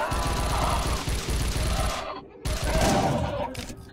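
A shotgun in the horror game Unloved blasts in quick, loud, chaotic bursts, with a brief lull in the middle before more firing resumes.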